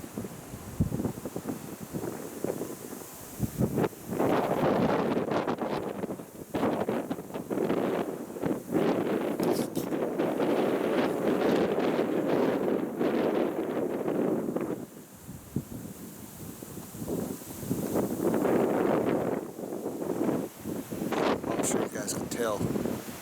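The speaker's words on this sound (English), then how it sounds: "tell it is pretty windy out here today" Strong wind buffets the microphone outdoors on open land where cattle graze, coming in loud, roaring gusts that rise and fall over the whole stretch, with trees shaking and rustling nearby.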